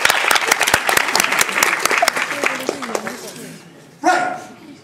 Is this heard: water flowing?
no